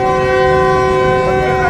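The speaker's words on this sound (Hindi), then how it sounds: "पहला डिपार्चर हॉर्न भी हो गया।" A Green Line passenger train sounds its departure horn at Hyderabad Junction, a loud, steady, sustained multi-tone blast held without a break, with faint station bustle underneath.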